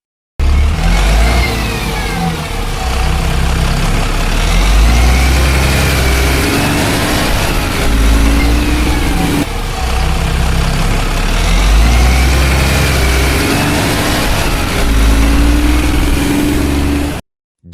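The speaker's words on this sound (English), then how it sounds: "An engine." A deep, heavy engine running steadily and loudly, its low rumble rising and falling slightly as it idles, with no talking.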